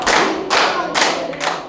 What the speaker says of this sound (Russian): Коллеги встречают аплодисментами своего руководителя.